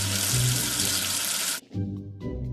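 Running water rinses soap away in a children's video game, a steady broadband gush from a tap that cuts off sharply after about one and a half seconds, leaving soft background music.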